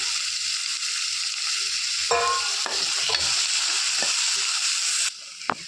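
Corn kernels and vegetables fry in a pan with a steady, close hiss, broken by a few scraping stirs of a spatula and a sharp clink near the end.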